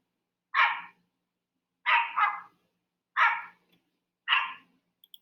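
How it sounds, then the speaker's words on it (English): A dog barks four times at even intervals, sharp and fairly close, with silence between the barks. "there will be thousands of dogs barking by your bed"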